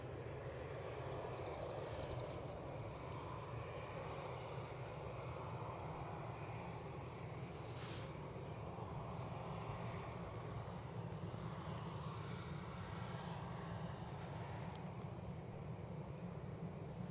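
A jet aircraft taxis at Edinburgh Airport with a steady low engine rumble and a broad whine carried on the wind, distant and even throughout the clip.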